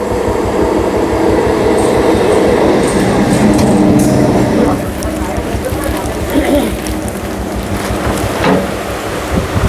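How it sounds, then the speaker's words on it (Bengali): A Sealdah-bound night train pulls into Palpara station with a loud, steady rumble and rolling rail clatter that eases slightly as it slows, and faint crowd noise sits underneath. "ট্রেন চলে এসছে।"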